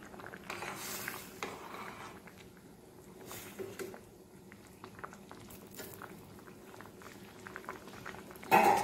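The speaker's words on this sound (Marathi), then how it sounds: "छानसं उकळीमध्ये" Varan phal, wheat dough pieces in dal, simmers in a pot with soft, uneven bubbling and pattering pops, quiet and close, ending in a brief metallic clink.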